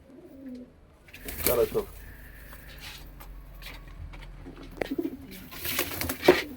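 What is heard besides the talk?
Malwai pigeons cooing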